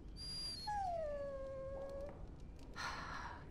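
A dog in the Dragon Age Origins game lets out a high whine and then a long, falling, drawn-out whimper, close and clear, followed by a short breathy sound.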